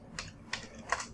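Three crisp computer-keyboard keystrokes land roughly a third of a second apart while a Git commit message is typed, close-up and fairly quiet with no talk.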